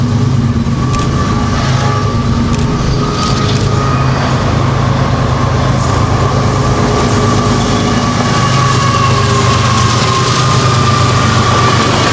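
An FEC freight train rumbles past continuously in South Florida, loud and close, with steady low roar, rail noise and faint clacking throughout.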